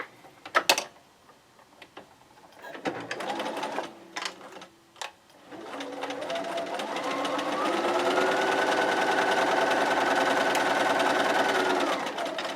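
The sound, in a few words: sewing machine stitching a quarter inch seam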